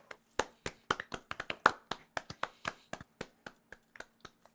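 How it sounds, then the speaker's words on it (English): A small group of cast members from a homebrew D&D 5e show claps, sparse, distinct hand claps with gaps between them, close and fairly quiet, tapering off toward the end. "join me in a round of applause as we send off Chris"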